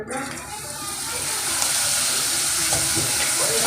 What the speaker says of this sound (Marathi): आता आपण याच्यामध्ये ॲड करणार आहोत पापड आणि छान पापड तळून घेणार आहोत